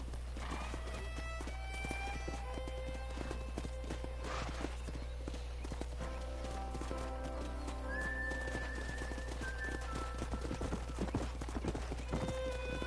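Horses neigh and whinny in a video game over a rapid galloping clip-clop of hooves, with whistling tones drifting in and out against a steady low hum.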